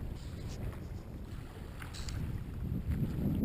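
Wind buffets the microphone on a sea shore during a bass plug-fishing session, a steady low roaring rumble that swells louder toward the end, with no talking.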